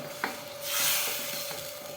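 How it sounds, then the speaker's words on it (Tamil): Steady sizzling of curry with tamarind in a pan, with a soft scraping stir swelling in the middle and light clinks of a utensil against the pot. "சேர்த்து நல்லா கலந்துக்கலாம்"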